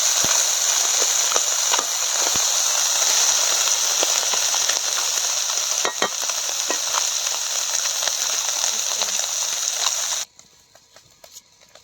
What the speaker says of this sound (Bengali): মাছগুলোকে খুব ভালো করে ভাজলে টকে ভালো লাগে